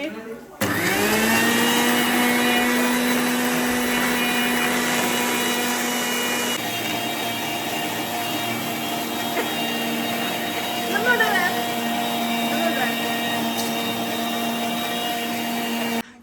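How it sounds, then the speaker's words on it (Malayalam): A kitchen mixer grinder whirs loudly and steadily, blending egg, lemon juice, salt, oil and garlic into mayonnaise, its motor tone shifting slightly partway through and running continuously to the end. "മുട്ട നാരങ്ങാനീര് ഉപ്പ് ഓയില് കുറച്ച് വെളുത്തുള്ളി എല്ലാം ഇട്ട് മിക്സിയിൽ കറക്കി കൊടുത്താൽ മതി"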